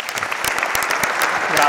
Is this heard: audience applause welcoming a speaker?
yes